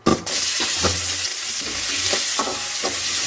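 Sliced big onions sautéing in hot oil with fennel and curry leaves, a steady close sizzle with the periodic scrape of a spatula stirring the pan, no talking.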